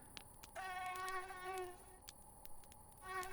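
A small biting insect, a mosquito, whines close by with a thin, steady buzz that swells and fades as it moves, broken by a few faint clicks.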